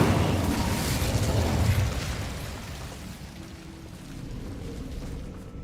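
Incendio fire spell cast in the Hogwarts Legacy video game, a roaring whoosh of flame that swells for about two seconds, then fades into a low rumbling tail.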